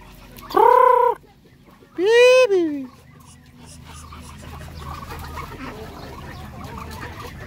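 Native Darag chickens in a backyard farm at feeding time, with two loud, close harmonic clucks or calls early on, then a softer bed of scattered clucking and farmyard noise.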